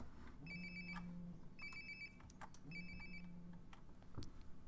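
A synthetic electronic phone ringtone in a video game, repeating three times at steady intervals, clean and moderately loud, with faint background ambience and no voices.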